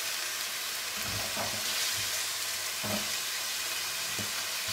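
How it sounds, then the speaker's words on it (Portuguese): Bell peppers going into a pan of onion sautéing until translucent, for Portuguese arroz de tamboril, with a steady bright sizzle throughout and a few soft stirring knocks. "Agora a cebola já está como eu quero e eu vou colocar os pimentos."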